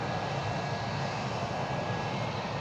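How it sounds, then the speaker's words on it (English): A taxiing airliner testing its thrust reversers near Anchorage gives a steady, even jet roar, fairly faint and distant, with no breaks or other sounds over it. "Might try the reversers just as he's taxiing out."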